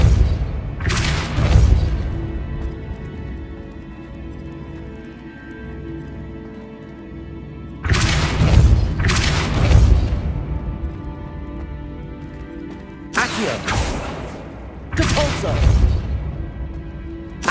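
Depulso spell effects cast in the Hogwarts Legacy video game, heard as several loud, heavy whooshing bursts with a deep booming impact, arriving singly and in close pairs with gaps between them.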